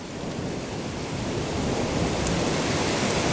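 Heavy spring rain pours down during a thunderstorm in Quartu Sant'Elena, a dense steady roar of downpour with low rumbling and no voices.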